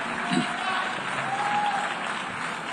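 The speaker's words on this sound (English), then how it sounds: "The Israeli delegation standing up, clapping." Applause from a delegation standing in the UN General Assembly hall, a dense, steady clapping from a crowd at some distance, filling the hall evenly with a faint voice over it.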